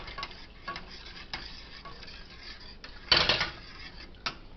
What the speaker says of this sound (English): We'll stir a little bit more of our stock in.